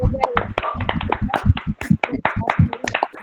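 Scattered hand claps from a gathered audience at a daily yoga and diet program assembly, sharp irregular slaps close by, with a voice talking over them throughout.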